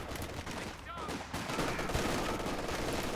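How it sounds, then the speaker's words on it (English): Machine gun fire in the Company of Heroes 2 real-time strategy game, a dense continuous burst of gunfire under a busy battlefield din, steady and loud throughout with no talking. "the MG suppresses the infantry section here"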